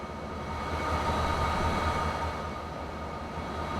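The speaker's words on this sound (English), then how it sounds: "There's another train going that way, which is great." A long freight train rolls past in the railway game Transport Fever 2, making a steady, close rumbling roar with a constant rail hum throughout.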